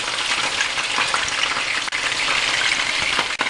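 Breaded chicken cordon bleu frying in a pan, a steady, dense sizzle of hot oil that stays loud and even throughout, with two brief dips in the crackle.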